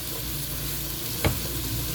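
Italian herbs sauté in a frying pan for leek and potato soup, a steady close sizzle broken by one brief scrape of a stirring utensil midway.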